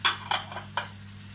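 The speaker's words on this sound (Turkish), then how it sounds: "Şimdi domatesini ekliyoruz arkadaşlar. Soğanıyla güzelce kavruldu." Short bursts of sizzling as tomatoes go into a pan of onions and chicken frying together, with a few stirring scrapes; close, no talk.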